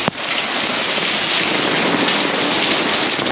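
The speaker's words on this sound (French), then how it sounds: "Et là il y a des grêlons gros comme des billes." Hailstones as big as marbles pelt down on a golf course in France, a loud, dense, unbroken patter with a sharp crack at the start and gusting wind noise throughout.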